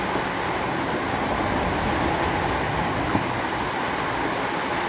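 Constant broadband roar of heavy rain hammering a corrugated metal roof, loud and unbroken with no voices.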